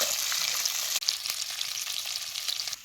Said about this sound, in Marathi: मोठा कांदा चिरला तेलात घालायचा. आता हे कांदा तेलात चांगला खालवर करून घेतो.